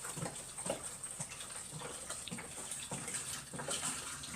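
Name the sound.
water filling a Frankford Arsenal rotary tumbler drum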